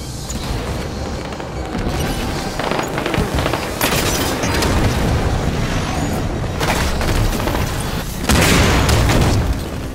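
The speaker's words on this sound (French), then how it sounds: "Je lance une grenade!" A grenade blast in the video game Halo 5 amid continuous heavy battle noise, with loud booms and bursts repeating over a dense, roaring multiplayer firefight.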